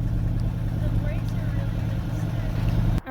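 A 1964 Dodge car engine runs at a steady high idle, a continuous low rumble heard up close under faint talk, cutting off abruptly near the end.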